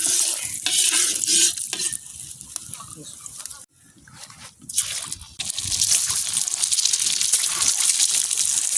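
Eggs fry in a pan for egg bonda, a loud bubbling sizzle with stirring and scraping that dips briefly midway before surging back, close up, with a voice speaking over it.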